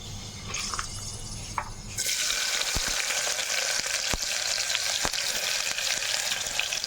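Sliced onion pieces drop into hot oil in a pressure cooker, where fenugreek seeds are already frying. A quiet hiss swells into a loud, steady sizzle with occasional sharp crackles.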